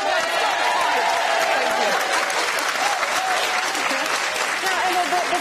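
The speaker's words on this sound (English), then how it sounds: "Don't stop clapping." Studio audience on a British daytime talk show clapping steadily for actress Emma Thompson, a dense, continuous round of applause under a brief bit of talk.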